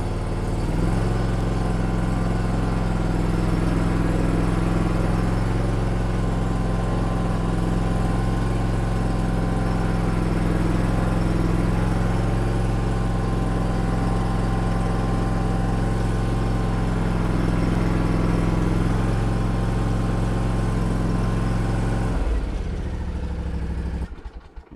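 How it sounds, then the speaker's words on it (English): A Bad Boy ZT Elite zero turn mower engine idles steadily up close for about 22 seconds, a constant low droning hum with faint clatter, then cuts off abruptly near the end. "Now what I like doing is idling my lawnmower up for the last 3."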